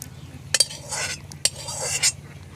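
A pot of tamarind prawn curry is lifted off the stove, with close metal clinks and scrapes of utensils against the pot and a faint sizzle between them.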